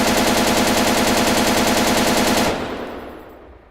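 An AUG rifle in Arma 3 firing one long fully automatic burst of rapid, evenly spaced loud shots that stops abruptly and leaves a fading echoing tail.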